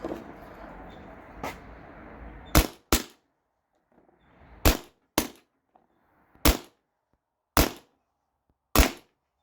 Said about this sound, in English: if I fire these too fast because they're so heavy, there's a little bit of a speed drop